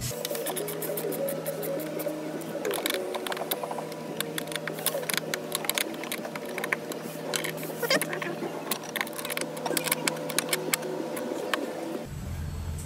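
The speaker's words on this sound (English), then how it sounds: "Once you have all the bolts started, you can start tightening them." A ratchet wrench tightens bolts on an underseat air compressor bracket in an INEOS vehicle, giving rapid, steady clicking at close range that continues for about twelve seconds before stopping.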